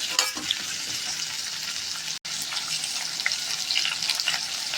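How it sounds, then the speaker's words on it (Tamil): Shallots, dried chillies, garlic and tomatoes with salt sizzle steadily while being sautéed in a pan for kara chutney, with occasional stirring scrapes over a constant frying hiss. "இதெல்லாம் போட்டு உப்பு போட்டு நல்லா வதக்கிடலாம்."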